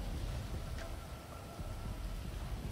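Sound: rain in video game GTA 5

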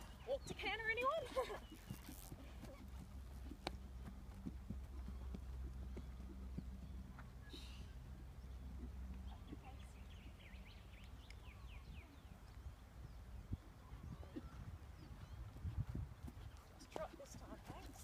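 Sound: horse hooves going from walk to canter

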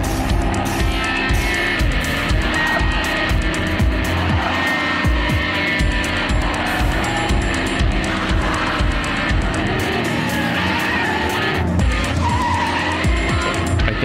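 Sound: race car engine and tire skids, video game

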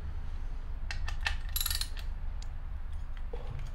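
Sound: wrench loosening parts of a Penn 704z fishing reel

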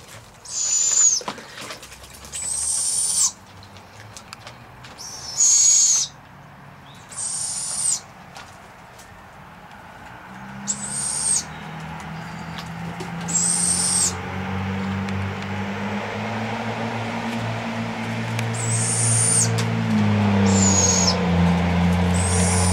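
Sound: young barred owls bathing and calling

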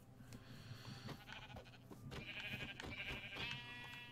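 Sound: sheep bleating in a video game

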